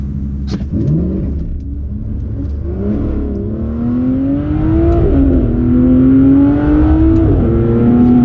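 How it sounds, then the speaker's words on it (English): A 2017 Aston Martin Vanquish S makes a hard launch on a wet, slippery road without launch control: its engine roars loudly and close, climbing steadily in pitch, with brief dips as it shifts up through the gears. "So we're doing a hard launch without launch control."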